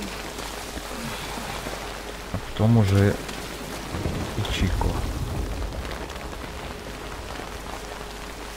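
Steady rain hissing over a Metal Gear Solid V Ground Zeroes mission in the background. Someone talks briefly over it, and a low rumble swells midway with no distinct thunderclap.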